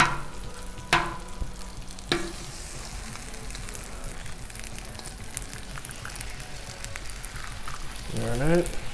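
Eggs fry on a Blackstone griddle with a steady close sizzle, broken by a couple of sharp clacks and a brief scraping sound near the end.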